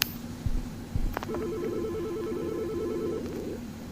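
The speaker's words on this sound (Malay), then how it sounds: "Kenapa ni telefon pula bunyi?" A telephone rings inside a Roblox hospital game, an electronic warbling ringtone pattern that starts after a few clicks and repeats steadily for about two seconds, clear and moderately loud without speech.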